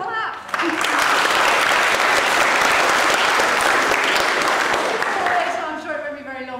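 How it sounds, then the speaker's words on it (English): Conference audience of young people and Labour councillors applauding in a council chamber, a dense sustained wave of clapping lasting several seconds, loud and close, with a voice briefly at the start and end. "Give yourselves a clap."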